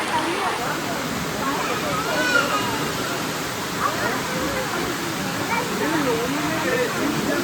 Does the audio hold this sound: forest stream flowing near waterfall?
yes